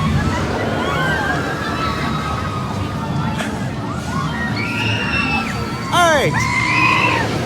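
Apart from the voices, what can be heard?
people screaming with joy on a roller coaster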